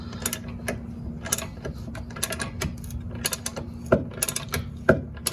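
Metal rear spring plate on a Porsche 911 or 912 suspension being shifted and levered by hand, giving close, irregular clicks, knocks and ratcheting scrapes over a steady low background hum.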